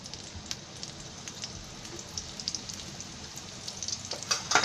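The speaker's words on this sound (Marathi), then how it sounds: "हा कांदा हा फोडणीला टाकते." Onion fries in hot oil as tempering for drumstick bhaji, giving a steady, fine crackling sizzle with small pops that grow slightly busier toward the end, with no voices.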